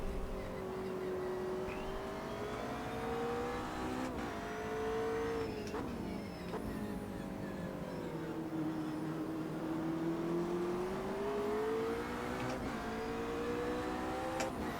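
GT3 and GT4 race cars in the Automobilista 2 racing game at Imola, several engines droning and revving together under steady load, pitch rising and falling through gear changes with brief shifts, a continuous loud multiclass pack throughout.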